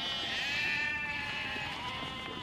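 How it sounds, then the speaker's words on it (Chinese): Guizhou dwarf-legged mountain goats on a grassy mountainside let out a long, wavering bleat, clear and fairly close, with no voices around. "食客们心心念念的羊，此刻正在贵州的山上，嚼着百草自由奔跑"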